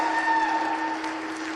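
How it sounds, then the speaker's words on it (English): Steady applause from the audience at a county fair swine show, honoring the senior grand drive exhibitors in the ring, with a constant hall tone running beneath the clapping. "let's hear a big round of applause for our senior grand drive"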